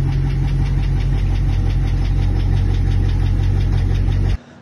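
An idling Dodge Challenger R/T 5.7 HEMI V8 with a rapid, rhythmic ticking and knocking from a suspected failed cam lifter, loud and close, then the engine cuts off abruptly at the end.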